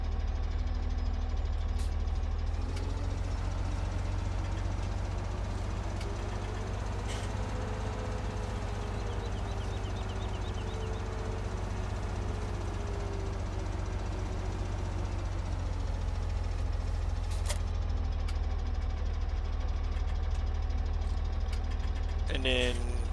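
A farm tractor's engine runs steadily while backing up to a TMR mixer, a constant low idle-like drone throughout with a slowly rising and falling tone, no talk over it.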